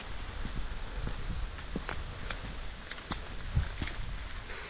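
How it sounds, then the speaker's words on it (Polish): Light rain falls outdoors by a nature reserve in Podkarpacie, Poland: a steady patter with scattered sharper drips and splashes against a broad hiss of water, continuous and fairly close, with no voices. "Trochę mniej już pada"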